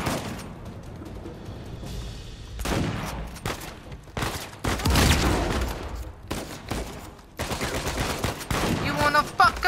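Shotgun blasts boom in a shootout in Uncharted 4: A Thief's End, loud, separate reports mixed with other gunfire, impacts and battle noise, with a voice breaking in briefly.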